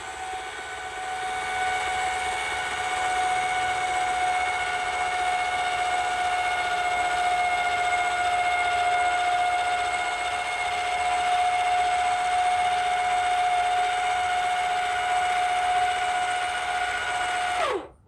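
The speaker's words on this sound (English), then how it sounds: "I'm gonna use my electric jack to extend" An electric trailer jack extends, its motor giving off a steady, loud whine that holds an even pitch for about seventeen seconds before stopping abruptly. No one talks over it.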